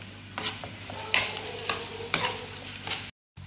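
A spoon stirs a dry spiced mixture of coriander, crushed red chili and turmeric in a bowl, giving several distinct scraping strokes at irregular intervals before a short cutoff.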